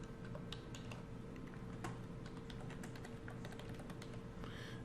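Quick, irregular keystrokes on a computer keyboard, faint and close, a steady patter of clicks over a low background hum.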